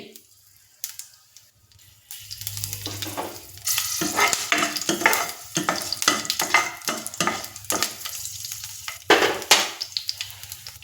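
Green chillies drop into hot oil with mustard seeds, and the pan sizzles and splutters in loud, crackling bursts while the cooking is stirred close by.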